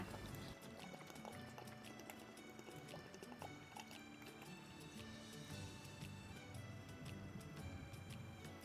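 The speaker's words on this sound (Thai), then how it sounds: "เราจะเทน้ำกะทิใส่ลงไปในหม้อค่ะ" Coconut milk pours steadily into a pot, a continuous splashing, gurgling stream heard up close with faint kitchen clatter.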